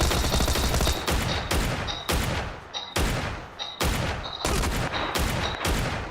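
Rapid bursts of gunfire from the player's gun in a video game, loud sharp shots repeating in quick succession across the whole stretch with no talk.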